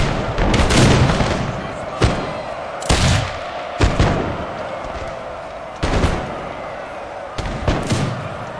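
Musket volleys from lines of soldiers in the Napoleon: Total War strategy game, a Poland campaign battle defending a city: a dense crackling salvo opens, then repeated sharp booming volleys arrive about every second or two, loud and close.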